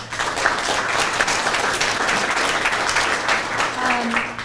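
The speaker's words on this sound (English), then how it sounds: "Round of applause." Audience applause at a District 2 town hall meeting, a steady dense wash of clapping from a crowd indoors that carries evenly through the whole stretch, with a faint voice briefly audible near the end.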